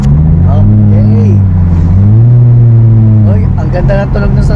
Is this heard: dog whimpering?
no